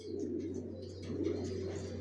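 A young original racer pigeon of Janssen bloodline coos continuously and close by, over a steady low electrical hum with faint chirps behind.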